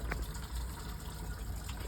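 Coolant from a 1998 Mitsubishi Eclipse GST spills steadily out of the open thermostat port during a flush, a continuous close gushing, splashing wash with no speech.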